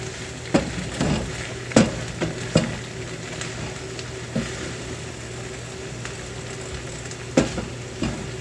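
Thai turkey and vegetables stir-frying in a pan give a steady close sizzle, broken by several sharp scraping clatters of a utensil mixing the food, with no talk.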